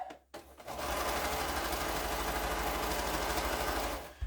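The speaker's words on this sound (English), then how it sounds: "I'm just stitching these with a consistent seam allowance" A sewing machine stitches quilt pieces in one steady, continuous run at close range, with a brief pause right at the start before it settles into an even, unbroken whir.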